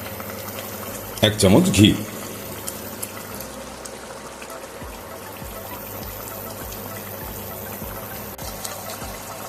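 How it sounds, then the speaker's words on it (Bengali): Water boils in a pot while spicy chicken kosha cooks, a low continuous bubbling with scattered soft pops. A brief louder splashing pour comes near the start, and someone speaks over it. "জলটা ফুটে গেছে।"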